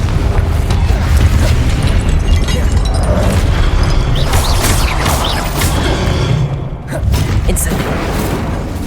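A Confringo explosion spell from the Hogwarts Legacy video game erupts in loud, continuous booming blasts and crashing debris, with a voice faintly present amid the roar.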